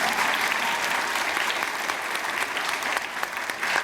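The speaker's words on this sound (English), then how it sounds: "Give a round of applause to them, please." An audience at a Ramadan talent show audition claps for the judges, a dense and steady round of hands held at an even, moderately loud level throughout.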